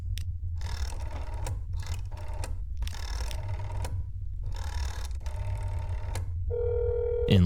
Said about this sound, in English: if I call that phone number again